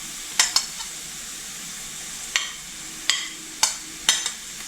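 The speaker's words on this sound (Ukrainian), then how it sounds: "І обсмажую разом з цибулькою." Quiet sizzling of onion and carrot frying in a pan, punctuated by several sharp clinks and scrapes of a utensil stirring against the pan.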